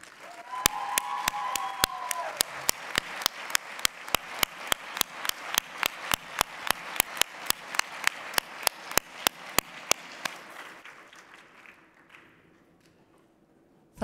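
Party congress delegates at the Independence Party national convention give a good clap for young speakers: sparse early claps quickly settle into steady unison rhythmic clapping, then thin out and fade near the end.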